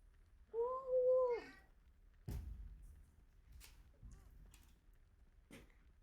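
A cat gives one clear, drawn-out meow, followed by a few soft thumps and faint background noise.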